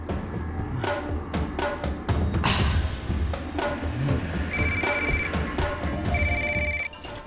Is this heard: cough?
no